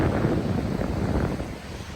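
Heavy coastal wind sweeps over a seaside bluff in Olympic National Park, making a dense, close rumble of mic buffeting that eases slightly toward the end.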